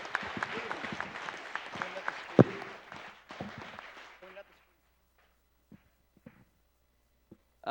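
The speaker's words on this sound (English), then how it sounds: "Give yourselves a round of applause." Audience at an Awesome Games Done Quick 2017 speedrun event giving a round of applause that claps densely for about four seconds, then thins to a few scattered claps and quiet gaps.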